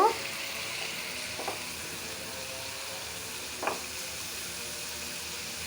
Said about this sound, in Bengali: এখন মশলাটা ভোনা হবে মশলাটা ভোনা হলে মাছটা দিয়ে দিব